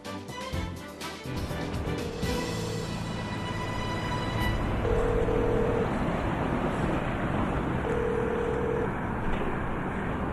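A telephone call rings out unanswered: faint repeated ringback tones about a second long, spaced roughly three seconds apart, sit under a steady broadband rumble of background noise, with no voices.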